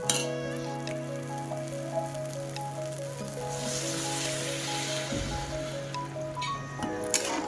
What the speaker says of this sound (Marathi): छान परतून घेतलंय. आणि त्याच्यामध्ये मी गरम पाणी टाकलं.